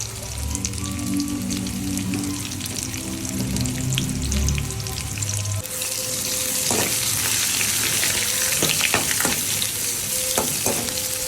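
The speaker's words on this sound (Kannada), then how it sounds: "ಆನಿಯನ್ ಎಲ್ಲ ಹಾಕಿ ನೀಟಾಗಿ ಫ್ರೈ ಮಾಡಿ" Onions frying in hot oil in a pan for chilli chicken, a loud steady sizzle that grows brighter and hissier partway through, with occasional stirring clinks.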